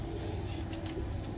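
A red pigeon cooing nearby, a low soft throaty coo over a faint background hum, brief and steady.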